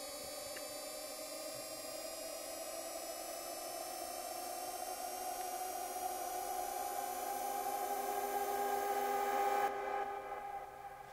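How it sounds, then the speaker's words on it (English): A sustained, layered synth tone from a techno track, washed in reverb and delay, swells gradually and then fades away near the end, played alone without any talking. "So a nice little fade away there with some reverb and some delay sends"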